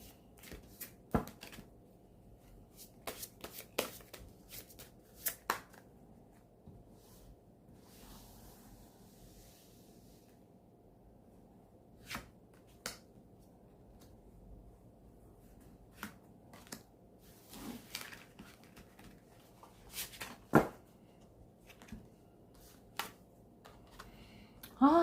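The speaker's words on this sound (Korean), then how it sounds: "추가 카드 뽑아보도록 하겠습니다." Tarot cards being drawn and handled give sparse, quiet taps and brief shuffling flicks scattered over a low steady hum, close and faint, with no talk.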